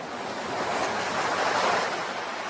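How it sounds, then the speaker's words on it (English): A big wave surging and splashing over rocks, a loud, broad rush of surf that swells and crests midway and then eases, with a windy, open-air texture and no voices. "And then a big wave suddenly came up and splashed all over them."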